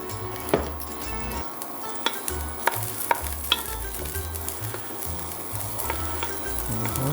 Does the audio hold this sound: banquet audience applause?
no